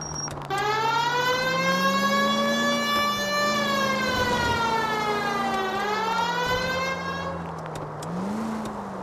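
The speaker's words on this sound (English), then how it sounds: "Please, Phelps, the siren" A police car siren in the video game L.A. Noire wails steadily with long rising and falling sweeps, loud and close throughout, with engine noise underneath.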